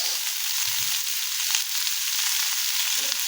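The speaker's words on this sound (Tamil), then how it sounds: "இப்போ நல்லா ஆனியனில் சில்லியில் கலக்கிற மாதிரி வதக்கிக்கோங்க" Onions and chili sautéing in a pan for Guntur Karam dosa, a steady close sizzle with faint stirring clinks, no voices over it.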